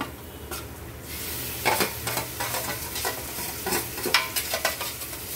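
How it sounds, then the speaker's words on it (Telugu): Marinated mutton hitting a hot pan with a loud, close sizzle, followed by repeated scraping stirs of a spoon through the meat as the frying crackle continues steadily. "ఇవో మ్యాగ్నేట్ చేసి పెట్టుకున్న మటన్ వేసేస్తున్నాను"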